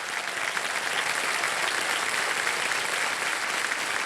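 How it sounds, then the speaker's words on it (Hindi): Studio audience applause on a TV quiz show as a returning contestant is welcomed, a bright, even wash of many hands clapping continuously at a steady level. "ताली बज जाए उनके।"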